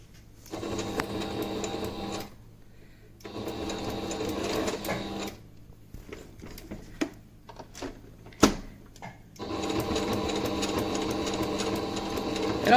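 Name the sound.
sewing machine stitching a face mask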